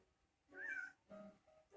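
Pet cat Ringo meows loudly indoors, two drawn-out wailing cries close by with a shorter third call starting at the end.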